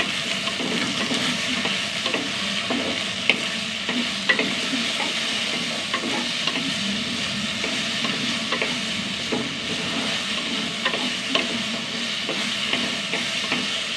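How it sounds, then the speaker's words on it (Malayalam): Okra and tomato sauté in a hot pan, a steady close sizzle with frequent light scrapes and taps of a stirring spoon throughout, no talking. "വെണ്ടയ്ക്ക നന്നായി വഴറ്റിയെടുക്കണം."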